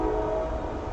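A train passing, a steady loud low rumble with a sustained horn-like tone, continuous and close, with no talk.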